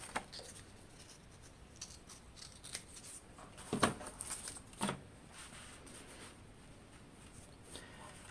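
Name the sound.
cutting paper for a book cover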